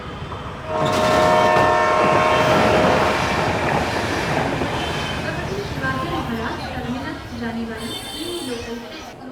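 A train rumbles along with a loud horn blast near the start, then rhythmic clattering of the cars continues, with voices faintly underneath.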